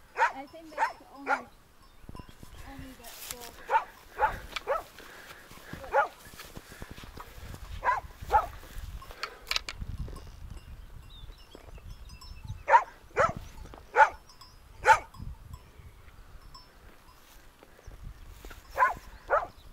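A dog barks repeatedly on an alpine hiking trail in the Italian Alps, sharp separate barks coming in bursts, fairly near, with people talking in between.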